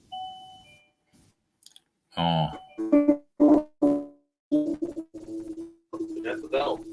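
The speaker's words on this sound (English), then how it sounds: "That's the bell." A doorbell chime rings at the start, two steady tones that hold for about a second, followed by a short pause and then people chatting close by.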